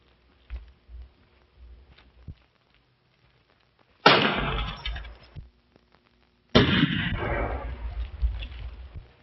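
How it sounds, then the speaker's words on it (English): Two loud gunshots ring out in a western film, each a sharp crack trailing into a long echoing rumble, spaced a few seconds apart after some quieter scuffling sounds. "The shot came from back of those rocks."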